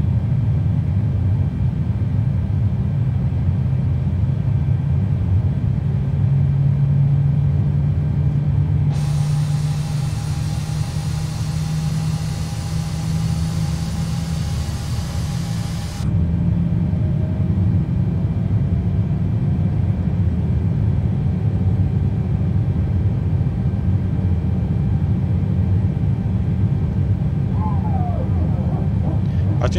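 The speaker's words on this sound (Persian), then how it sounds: "Engine number 2 is starting up." An Airbus airliner's number 2 engine spooling up on the ground at Tehran, a steady heavy cabin rumble with a rising whine and a brief hiss partway through, while a person talks over it.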